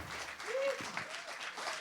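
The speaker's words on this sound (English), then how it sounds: "A round of applause for my sister Kalila." Audience applause at a live evening political broadcast event, a fairly quiet, steady patter of clapping from a modest crowd with a brief voice rising over it.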